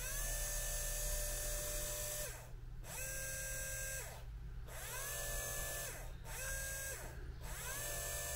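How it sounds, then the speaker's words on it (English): A VW Beetle wiper motor, powered straight from a battery on the bench, hums and whines steadily at close range, its pitch sweeping in a repeating cycle with brief dips roughly every one and a half seconds. "Sounds like a happy little motor"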